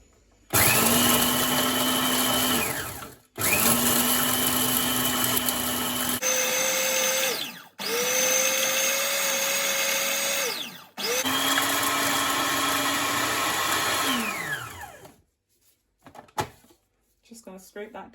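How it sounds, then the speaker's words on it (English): Food processor blitzing whole-chicken jerk seasoning with thyme and spices, a loud steady motor whine in four long bursts separated by brief stops, pitch rising and falling as each run starts and ends, followed by faint scraping and handling knocks. "So now that I've had in all my spice in my food processor, I'm going to just chop this."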